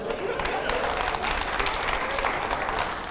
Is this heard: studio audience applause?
yes